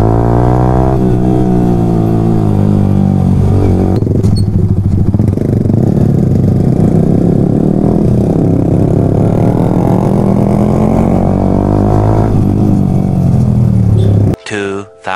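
A motorcycle engine runs close by and revs, its steady drone rising and falling in pitch for most of the stretch, with voices talking over it before it cuts off near the end.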